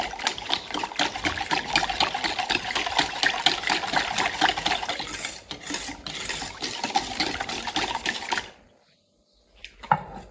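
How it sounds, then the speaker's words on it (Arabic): Water is poured into lemon juice and sugar for a homemade Algerian lemon charbat, a steady, close splashing stream lasting about eight seconds, then quiet and a brief clink. "نزيدو هاي وين عندنا 2 جوات تاع ماء"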